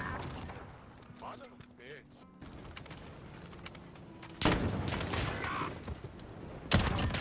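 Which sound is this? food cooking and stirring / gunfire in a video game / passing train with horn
gunfire in a video game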